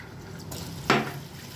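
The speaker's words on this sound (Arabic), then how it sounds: "هحط نص كوبايه ميه تاني." Water poured from a cup into a pot of sugar for syrup for a kunafa tray, heard as a single short splash that quickly fades over a quiet background.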